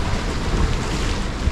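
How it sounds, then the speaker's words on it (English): Strong, cold autumn wind blows across seaside rocks on the UK coast, a loud continuous roar buffeting the microphone with no pauses. "up there the wind is becoming unbearable"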